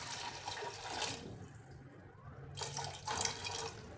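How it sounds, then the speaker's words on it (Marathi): Water poured into a pressure cooker with chickpeas for chhole, a soft continuous splashing and trickling stream that pauses briefly and resumes, fairly faint and alone. "त्यामध्ये घालायचे पाणी।"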